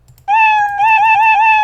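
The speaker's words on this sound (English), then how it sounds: "It lets you play sounds, so for instance, meow." The Scratch programming editor's built-in cat meow sound effect, played once: a single loud, clear, drawn-out meow that starts abruptly after a brief quiet moment and sustains to the end.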